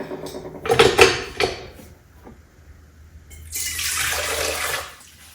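Hot water pours into a mixing bowl for bread dough, a steady close splashing rush lasting a couple of seconds after some earlier knocks and handling sounds.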